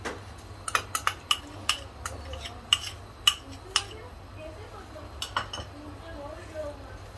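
A spoon stirs and scrapes reducing milk mixed with milk powder and custard paste in a pan. A run of a dozen or so sharp clinks against the metal gives way to softer scraping, with faint talk in the background.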